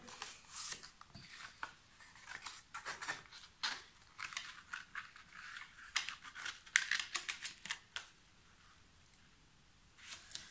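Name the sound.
scissors cutting the corners of paper album flaps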